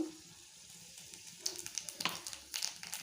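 Whole cardamom, cloves and cinnamon sizzle in hot oil in a kadai, a faint crackling fry that grows into brief spitting pops partway through.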